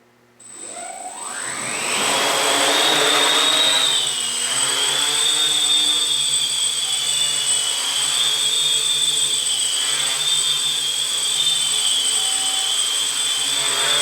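Small HobbyKing KKmulticopter quadcopter motors spin up from silence into a loud, steady high-pitched whine with a buzzing drone that holds while the craft flies close by.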